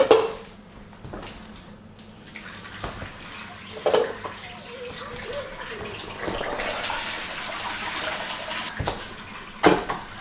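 Water from boiled cabbage pours out of a pot into a kitchen sink, a steady splashing rush with a few clinks of cookware.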